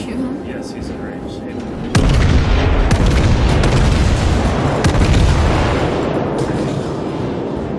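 Heavy naval guns firing in World of Warships: a deep booming salvo hits about two seconds in, followed by sustained rumbling blasts and crackling impacts that slowly fade, loud and dense throughout.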